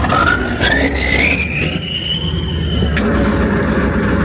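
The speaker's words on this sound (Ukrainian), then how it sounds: "проповзти під бойовою броньованою машиною, яка постійно смикається, імітуючи рух, видає пекельні звуки і заливає вас вихлопними газами" A heavy armored combat vehicle engine roars and lurches at close range, a loud continuous rumble with a rising whine.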